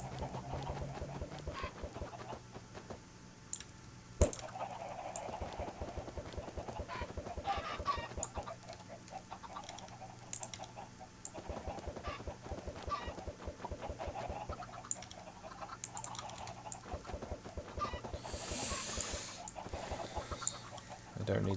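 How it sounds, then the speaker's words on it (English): Chickens in the Minecraft video game, many birds clucking in quick overlapping clicks, fairly faint and steady throughout, with occasional louder squawks and no talk. "I don't need this many chickens."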